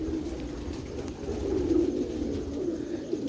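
A four-to-five-year-old pigeon coos nearby in a low, rolling murmur that swells in the middle, set against a soft background hum.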